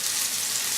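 Sausage frying in a pan gives off a steady, soft crackling sizzle, even and continuous with no voices.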